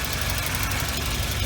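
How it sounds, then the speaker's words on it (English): A turbo Volvo's engine idles close by with a slight exhaust leak, a steady, even rumble with a faint ticking pulse running through it. "It runs just like my other Volvo"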